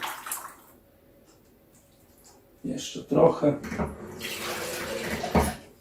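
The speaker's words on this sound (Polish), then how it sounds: "Troszkę wody, żeby tam to się wszystko nie przylgnęło, nie, nie przywarło do blaszki." Water poured from a jug into a metal baking tray holding beef bones for keto bone broth, a splashing pour heard from about 2.6 seconds on, close by, with a brief spoken remark over it.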